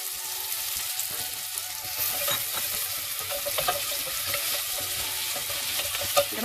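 Food sizzles and crackles in hot olive oil in a pan, a busy, even spitting hiss with small pops throughout and no voices.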